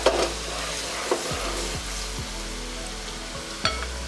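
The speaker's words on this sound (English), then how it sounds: "Saute them to little brown." Six cloves of pounded garlic sautéing in ghee in a pan, a near, even sizzle with a couple of sharp utensil knocks and scrapes against the pan, and a low hum beneath.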